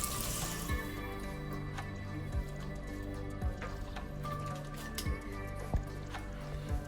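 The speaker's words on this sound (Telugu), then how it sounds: "అలాగే ఉడికించిన వాటర్ కూడా వేసేస్తున్నా" Boiled water is poured into a pan of batani chaat on a home kitchen stove, a faint, continuous liquid trickle with a steady hum underneath and occasional soft clicks.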